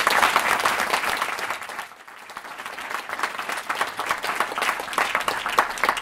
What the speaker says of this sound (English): Give Matt a big, big round of applause.